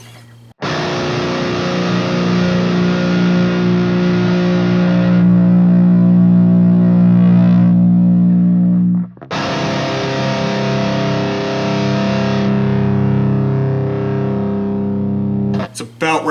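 An electric guitar plays through an Airis Effects Cloud Drive overdrive pedal, giving sustained, lightly saturated chords that ring out twice with a short break between, loud and close with a touch of grit.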